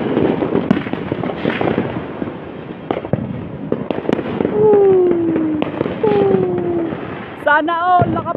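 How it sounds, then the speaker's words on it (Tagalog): New Year fireworks and firecrackers pop and crackle in dense, loud bursts close by, with whistling rockets rising partway through and a few distant cheers mixed in. "parang bumili din ako ng fireworks"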